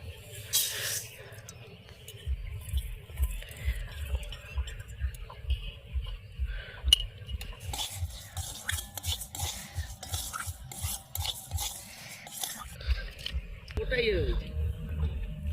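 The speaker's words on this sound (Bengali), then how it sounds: "400 গ্রাম মুগের ডাল নিয়েছি, ডালটা আমি ভেজে নিচ্ছি" Moong dal being roasted and stirred in a clay pot, with rhythmic scraping and gritty rustling of the lentils against the pot, quiet and close, while someone talks softly over it.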